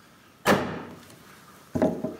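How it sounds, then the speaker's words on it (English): A timber framing mortising chisel struck to set its edges on the line of a floor sill joint, one sharp, loud smack that rings briefly, followed by a second, lighter knock. "we switch to our mortising chisel, our timber framing chisel, and we're going to drop this right on the line and set our edges with one good smack"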